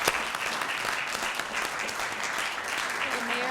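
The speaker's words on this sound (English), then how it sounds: "So if we could just give a hand clap and congratulations to" An audience applauds Mayor's Youth Council members at a civic meeting, with even, continuous clapping throughout and a voice briefly audible near the end.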